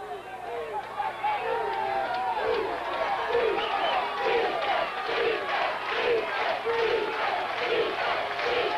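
High school football crowd on fourth down and ten, a loud rhythmic chant pulsing about once a second, with an announcer talking over it.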